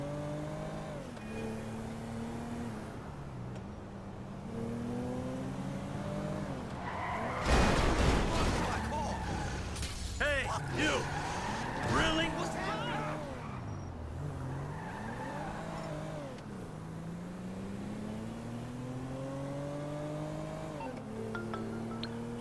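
A car in the video game GTA 5 revs and skids, with tires squealing in rising and falling sweeps and a loud burst of crashing noise midway, under game dialogue.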